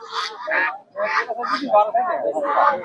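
Chinese ducks at a village livestock market give a run of loud, close, rasping honks and quacks in quick succession.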